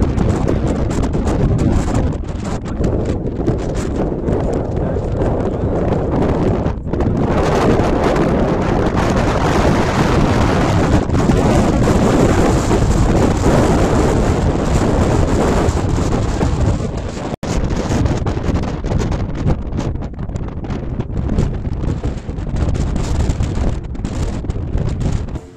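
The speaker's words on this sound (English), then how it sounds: "I know this is going to be very, very noisy with all that wind." Strong wind on a coastal bluff buffets the microphone with a steady, loud, broadband roar that lasts throughout, with no other sounds standing out.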